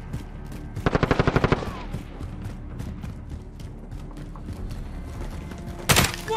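Automatic weapon fire from Call of Duty Modern Warfare team deathmatch: a loud rapid burst of about nine shots near the start, then a quieter game background and a second sharp blast near the end.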